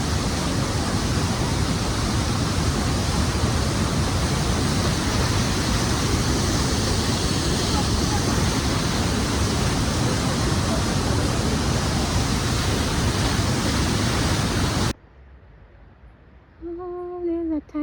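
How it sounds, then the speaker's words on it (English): The Karura Forest waterfall roars as a loud, dense, continuous rush of falling water, very close, then cuts off abruptly near the end, where a voice briefly speaks over quiet surroundings. "The famous Karura Forest waterfall."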